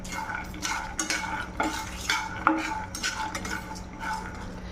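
Peanuts, cumin and cardamom are dry-roasted in a pan, a spatula scraping and clinking against the metal in uneven strokes, close by with a light sizzle underneath and no talk.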